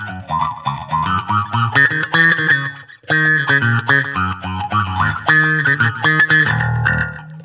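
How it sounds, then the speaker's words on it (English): Bass guitar played through a small, cheap practice amp with an auto wah effect, each note sweeping with a vocal, quacking filter. A busy riff plays loud and alone with a brief break partway through. "Auto wah."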